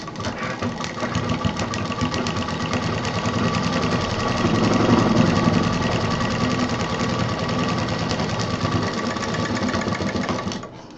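A sewing machine runs in one steady, continuous stretch, its needle chattering close and loud as it stitches a bag's piping onto the fabric cover.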